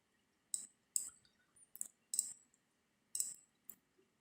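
A computer mouse clicks sharply during copying and pasting, about seven crisp, close clicks in irregular succession, some in quick pairs, with no talk.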